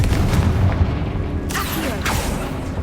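A Confringo fire spell goes off in the video game Hogwarts Legacy, a booming burst that rumbles low, followed by sharp crackling bursts, loud and close with no voice over it.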